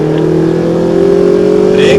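An AMG car on a track accelerates out of a corner, its engine droning loud and close with a steady rising tone, continuous across the whole moment.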